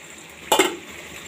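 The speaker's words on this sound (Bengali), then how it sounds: "এই যে গরম পানিটা দিয়ে দেব" Hot water poured into a pan of fried taro with shrimp, a sudden loud hiss and splashy burst lasting about a quarter second, then a fading sizzle over a quiet kitchen background.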